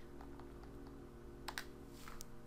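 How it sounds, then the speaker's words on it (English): Keyboard typing animation in the Resident Evil video game, a quick series of light, soft key clicks followed by a brief cluster of sharper taps, quiet and close with a low hum underneath. "A nice typing animation."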